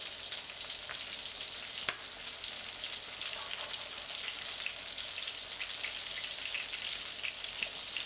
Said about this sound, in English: you hear that sizzle? It's not too loud,